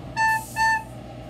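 Two separate short recorder notes on the same pitch, each tongued cleanly as a quarter note in an even rhythm, sound close and clear with a quiet gap between them and no talking.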